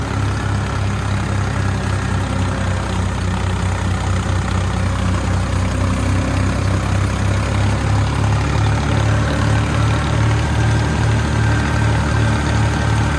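A tractor engine running under heavy load in the field, turning about 1500 and bogging slightly, gives a loud steady low rumble with a regular pulsing throb that holds unbroken throughout.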